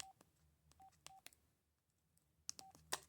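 Keypad tones from an LG 150 Trumpet Mobile phone: several short, quiet dual-tone beeps pressed one at a time with gaps between, plus light handling clicks, and a quick cluster of presses near the end.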